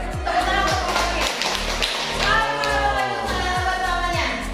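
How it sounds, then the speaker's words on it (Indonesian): Students in a classroom clap together, a steady burst of rhythmic hand claps that carries on loudly for several seconds with some background voices. "Tepuk tangan untuk semuanya."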